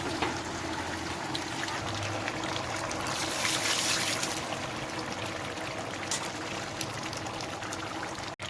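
Lemon juice, squeezed into a quarter litre of water, pours steadily into a large batch of chicken for dum biryani, a continuous liquid splashing and trickling that swells midway, with no talking.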